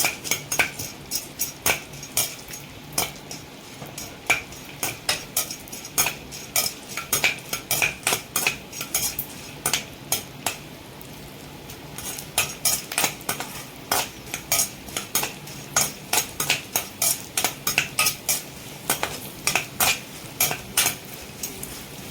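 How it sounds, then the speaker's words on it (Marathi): Edible gum (dink) roasting in ghee in a pan, a long run of sharp spoon scrapes and clinks against the metal in quick irregular bursts, over a faint frying hiss, no speech. "डिंक भाजण्यासाठी आपण तूप घेतलेलं आहे"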